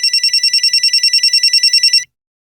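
A telephone rings at a police station with a loud, rapid electronic trill that pulses steadily for about two seconds and then cuts off into silence.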